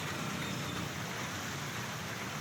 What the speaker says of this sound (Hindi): ये तस्वीर आप देख सकते हैं किस तरह से भारी बारिश हुई